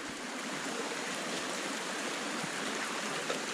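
Continuous rushing of a mountain river, a steady broadband wash of water heard nearby with no voices.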